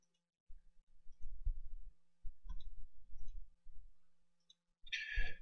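Mouse clicks come in scattered groups while masking in PFTrack software, soft and close-up with short gaps of quiet and a louder burst near the end.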